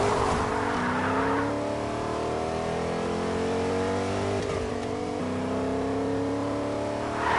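A truck driving off-road in Fortnite, its engine droning and shifting pitch steadily and loudly throughout, with rising and falling revs.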